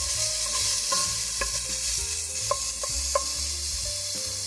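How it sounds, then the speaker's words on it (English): Minced garlic sautéing in a pot for a ground beef soup, a continuous bright sizzle with a few sharp spoon taps against the pot. "I'm going to add in my minced garlic. I'm going to saute that for 1 minute."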